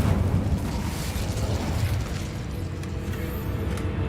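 A continuous roaring burst of magical fire from the Incendio spell in Hogwarts Legacy, a dense, steady rumbling whoosh that stays loud and full for several seconds without pause, no voices.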